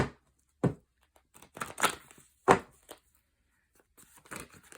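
A deck of tarot cards being shuffled by hand, several separate crisp riffling and slapping bursts with quiet pauses between them, close up.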